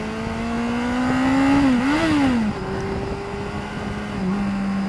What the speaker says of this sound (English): Using that gearbox just to slow the bike down a little bit